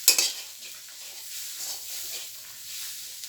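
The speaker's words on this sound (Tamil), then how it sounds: "கொஞ்சம் பெருசில் வச்சு பதமாக கொஞ்சம் மறுபடியும் வறுத்துக்கலாம்" Chili powder and onions roast in a pan for chicken curry, giving a soft, steady sizzle with light stirring and scraping at close range, and no voices.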